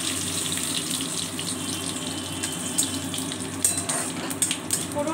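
Bay leaves and cumin seeds sizzling in hot oil, a continuous close hissing crackle with a few sharper pops and stir scrapes toward the end.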